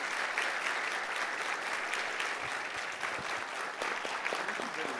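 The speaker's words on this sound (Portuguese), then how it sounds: "eu queria pedir uma salva de palmas ao meu anfitrião" A lecture audience at SESC Santo André applauds its host, a dense, even wash of many hands clapping heard at a distance and sustained throughout.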